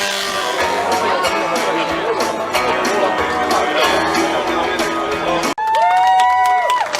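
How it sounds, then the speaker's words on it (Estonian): A crowd at the Audru parish days 2022 race applauds and cheers for the winner, with steady clapping, whoops and chatter throughout, followed near the end by a brief burst of bright tonal sound. "Teeme Annile aplausi."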